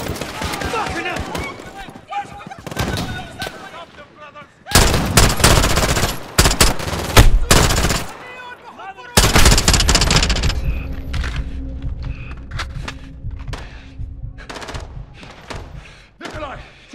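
Machine gun fire in Call of Duty: Modern Warfare: rapid automatic bursts and scattered single shots, loud and close, in several dense clusters, with voices talking between and under the gunfire.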